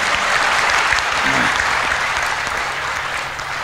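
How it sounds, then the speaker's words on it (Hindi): Audience at a live comedy show applauding, dense sustained clapping from a large crowd that fills the clip at high level and tapers slightly toward the end. "एक बार जरा ढंग से ताली बजाओ पीछे तक"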